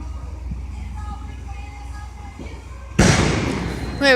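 Fireworks at an early Fourth of July celebration by the water; after a quiet stretch with faint distant hum, a loud crackling burst erupts and fizzles on, followed by another pop.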